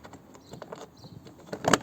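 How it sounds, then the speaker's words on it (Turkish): Small metallic clicks and ratcheting taps from a wrench unscrewing the front seat bolts of an Opel Corsa B, faint and close, building to a louder clatter at the end. "Yine aynı anahtar ile burayı da söküyoruz."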